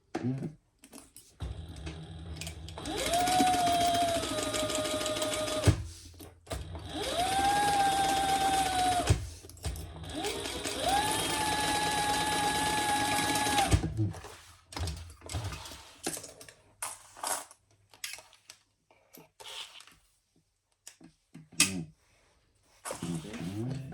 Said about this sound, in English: we're going to put these two pieces right sides together and sew the bottom